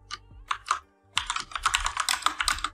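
Keys clatter on a computer keyboard while PHP code is typed, a short burst of clicks, a brief pause, then a faster steady run of close, crisp keystrokes.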